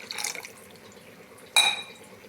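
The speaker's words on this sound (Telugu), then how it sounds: "కొంచెం వాటర్ యాడ్ చేస్తున్నామండి" Water is poured into a pan of Andhra-style fish curry, with a short, faint trickle and a sharper splash near the end in a quiet kitchen.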